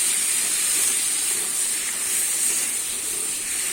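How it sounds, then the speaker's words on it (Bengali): Crab sizzling in a hot pan of spicy Bengali curry masala as it is stirred, a steady close hiss and steam spray throughout with no talk. "এবারে কিন্তু জাল দিয়া কাঁকড়াটা দিয়ে দেব। এবার আমি নেড়ে চেড়ে নেব।"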